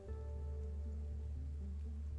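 Rain falling in the video game I Was a Teenage Exocolonist, a soft steady patter heard faintly under a low hum and game music.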